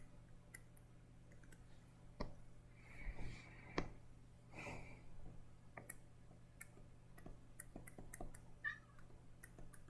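A cat meows indoors, a couple of short, faint calls heard near a quiet room with a low steady hum and scattered soft clicks and ticks.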